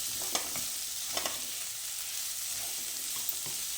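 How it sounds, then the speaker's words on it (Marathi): Two large chopped onions frying in oil in a pan, a steady soft sizzle with a few sharp spoon or spatula clicks from stirring, no voices. "2 मोठे कांदे कापून ते आपण याच्यामध्ये तेलावर चांगले परतून घेणार आहोत, भाजून घेणार आहोत"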